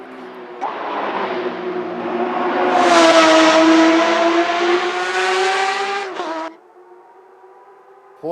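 A Porsche engine revs up in a long rising pull, holding a loud steady roar for several seconds before dropping sharply to a lower idle-like drone near the end.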